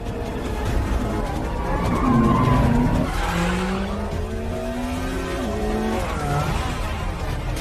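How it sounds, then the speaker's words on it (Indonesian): Car chase in a superhero spy film, with engines revving and tires squealing in long skids, loud and close, layered with music and sound effects. "Tapi mereka mencoba kabur dengan mobil, namun terus dikejar oleh Taskmaster dan agen tersebut."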